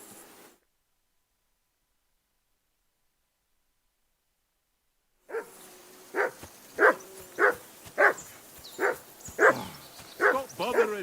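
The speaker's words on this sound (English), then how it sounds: "I assume you can hear that damn dog of yours barking." Dog barking in the medieval role-playing game Kingdom Come: Deliverance II: after a quiet gap, a dog barks about ten times in a steady, evenly spaced series, fairly close and loud, with faint ambient noise behind.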